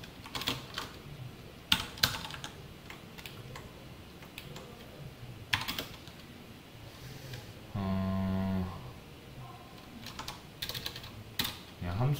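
Light tapping on a computer keyboard while code is typed, soft irregular keystrokes in short runs with pauses, recorded close and quietly, with a brief steady tone partway through.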